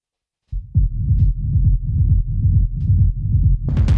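Techno rumble bass before EQ removes its high frequencies: a loud, continuous low-end throb pulsing in a steady rhythm, with brief brighter clicks and a burst of high-end noise near the end.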